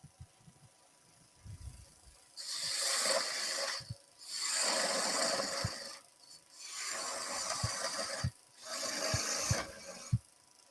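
A spindle gouge cutting a wooden conker tree on a lathe, four rasping scraping passes of a couple of seconds each separated by quieter spinning gaps with small knocks.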